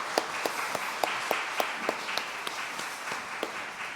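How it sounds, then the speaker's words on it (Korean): Congregation applauding during a Korean church prayer service, steady rhythmic clapping in unison, full and close, with no talk over it. "하나님께 영광 박수 올립니다."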